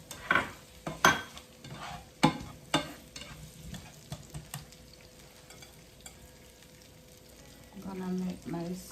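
Onions frying in a small pot for a Jamaican-style brown stew fish give a low, steady sizzle, broken early by several sharp spoon knocks and stirring scrapes, with a voice briefly heard near the end.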